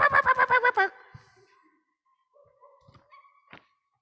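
A puppy barks in a quick burst of about seven close, loud yaps, then falls quiet apart from faint scattered thumps and a short high squeak near the end.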